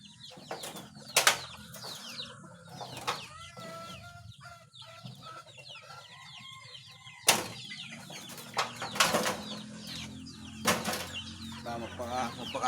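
Pet chickens, including chicks being treated for an eye ailment, cluck and chirp nearby in scattered bursts, with sharp wing flaps punctuating the quiet between calls.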